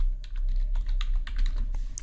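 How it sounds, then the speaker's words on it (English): Quick, uneven keystrokes on a computer keyboard as a SQL server name is typed into a box, close and clear, with no one talking. "So I'm going to type that in to this"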